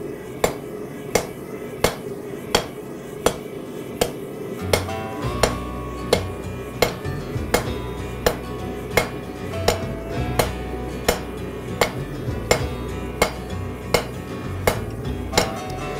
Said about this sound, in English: Working two sides here with the hammer.